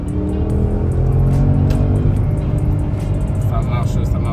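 Porsche Panamera Turbo pulling hard in Sport Plus mode, riding low, its engine a loud, steady roar that builds continuously, with road and tire noise underneath.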